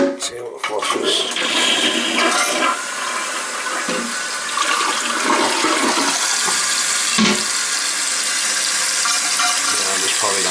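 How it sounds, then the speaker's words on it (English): A toilet that keeps running, with the water level a little low, is flushed after adjustments. A loud, close rush of water swirls and drains, then settles into a steady refilling hiss. "Let's see how it flushes."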